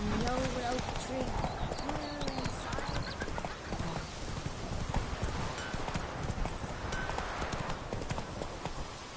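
Roach, the horse in The Witcher 3, gallops with steady clip-clop hoofbeats close by, mixed with game sound effects, a brief whinny and a voice calling out over the run.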